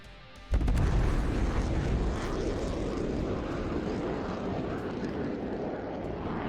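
A jet aircraft in a video game roars past with afterburners lit, a sudden loud blast that then holds as a broad, sustained rumbling roar, close and unbroken.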